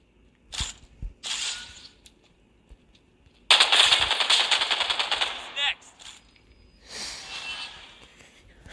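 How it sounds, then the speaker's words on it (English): Gunfire in the Final Fantasy VII mobile battle royale game, a few short bursts followed by a sustained rattling volley of rapid shots, then another fading burst, fairly loud and close. "Pretty common shooting that you'd see in most other games"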